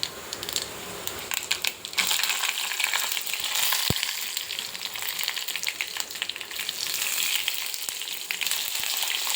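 Tempering seeds crackle and sizzle loudly in hot oil for a moong dal dish, a dense continuous spitting hiss with one sharp metallic tap partway through.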